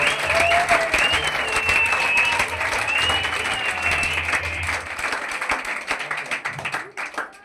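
Audience applause at a leadership achiever program event: dense, steady clapping from a crowd that carries on for several seconds and then thins out and fades near the end.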